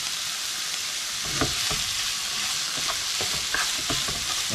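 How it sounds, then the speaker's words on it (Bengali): Bitter gourd and potato frying on high heat in a pan, a steady close sizzle with several brief scraping stirs of a utensil. "প্রথমে আলুটা আর করলাটা সিদ্ধ করার জন্য আমি হাই হিটে 2 মিনিট রান্না করব"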